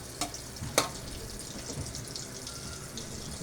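Butter sizzles faintly in a pan for a chicken, green pea and tomato paste dish, a soft continuous crackle broken by a couple of sharp clicks.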